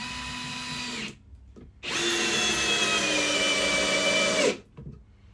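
A Ryobi One+ HP RPD18C cordless hammer drill whirs loudly and steadily in two close bursts, a short run, a pause, then a longer sustained spin that winds down at the end.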